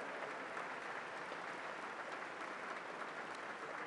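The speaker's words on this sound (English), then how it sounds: "another round of applause" An audience applauds members of the National Washington Opera at a Ruth Bader Ginsburg postage stamp ceremony, producing an even, continuous, fairly distant patter of clapping that holds throughout.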